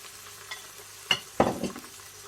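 Onions cooking in a pan while being browned, with a faint steady sizzle under a couple of louder clatters of stirring near the middle and end.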